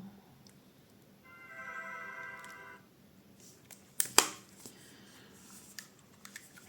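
A Motorola V620 mobile phone plays a short melodic tone lasting about a second and a half while being switched off, followed by faint clicks and handling sounds nearby.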